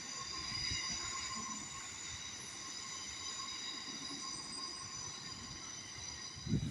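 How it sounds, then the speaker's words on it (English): A London Northwestern train pulls into the platform at Wolverhampton station with a steady rumble and high, sustained wheel squeal, moderately close, then a brief thump at the end. "this is our train pulling in now to the platform at Wolverhampton"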